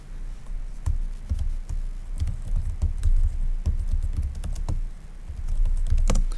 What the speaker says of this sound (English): Now it won't let me type.